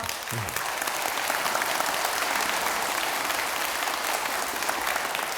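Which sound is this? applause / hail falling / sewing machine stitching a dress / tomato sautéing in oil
applause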